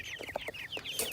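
Farm chickens cluck in a quick series of short, fairly faint calls, with no voice over them.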